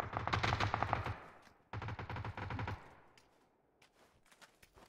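Bursts of automatic gunfire ring out in the battle royale game PUBG, two rapid sustained volleys followed by a few scattered single shots fading off.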